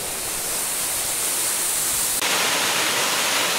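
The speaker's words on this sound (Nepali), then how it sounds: "एउटा झरना भेट्यो।" A waterfall found along a forest trail roars as steady, dense broadband rushing water, loud and close, with no voices over it.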